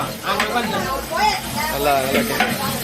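Onions and tomatoes are stirred and fried in a large biryani drum, giving a steady sizzle with scraping spoon strokes under continuous close talk.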